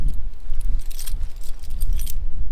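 A bunch of unlabelled keys jangles and clinks in continuous bright metallic rattles, close and loud, with no talking.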